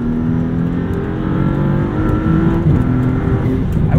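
A 2023 Maserati MC20 engine drones steadily from inside the cabin during canyon driving, with a low, continuous rumble and rising harmonics as the revs build near the end.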